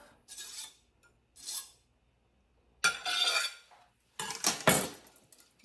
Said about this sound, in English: Take my knife, scrape it off,